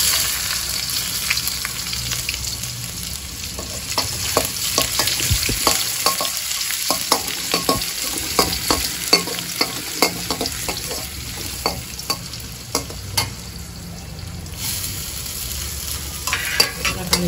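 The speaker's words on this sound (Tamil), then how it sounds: "கடுகு பொரிஞ்ச உடனே கடுகு பொரிஞ்சதும் வெங்காயத்தை" Mustard seeds splutter in hot oil for a crab gravy, giving a steady close sizzle dotted with sharp popping crackles and occasional stirring scrapes as onions go in, with no talking.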